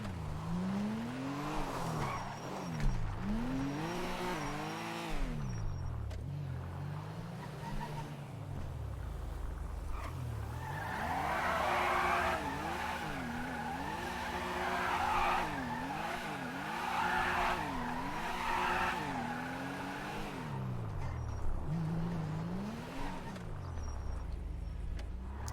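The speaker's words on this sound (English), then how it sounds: "I'm gonna go see if I can make some tire marks down here." Car tires squeal and skid repeatedly in GTA V on the NoPixel server as an engine revs up and down, long wavering screeches rising and falling across the stretch, close and loud.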